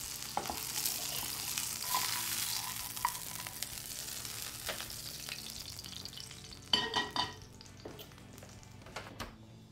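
Lamb sears in a hot pan with a steady, moderately quiet sizzle and crackle, and a few sharp spits and clatters near the end, with no talk.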